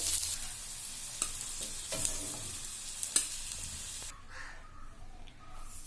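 Surmai fish fries on a tawa with a steady sizzling hiss and a few soft clicks of handling, then the sizzle drops away near the end, leaving quieter background.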